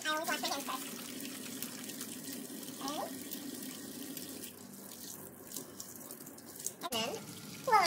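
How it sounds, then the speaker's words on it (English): Hands are washed under a running kitchen tap before meal prep, a steady, close rush of water splashing into the sink that carries on throughout, with faint voice sounds in the background. "it's very important that I always wash my hands first"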